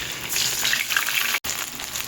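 Ginger paste hitting hot oil with cumin and dried red chillies, a loud, close, continuous sizzle with one abrupt brief cutout near the end.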